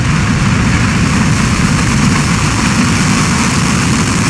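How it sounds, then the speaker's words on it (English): A SpaceX Falcon 9 rocket lifting off: a loud, steady, continuous engine roar with dense low rumble that holds evenly throughout, with no voices. "We have liftoff of Falcon 9."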